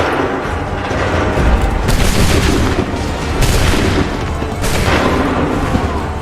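Musket volleys crack out in Assassin's Creed 3, several loud massed bursts of gunfire booming close by in quick succession, each a broad, rolling blast that fades before the next volley erupts.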